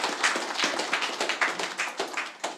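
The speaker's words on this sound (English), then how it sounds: "let's give applause" Small workshop audience clapping after a whiteboard physics session, sparse enough that individual hand claps stand out in an uneven, moderately close patter that continues steadily throughout.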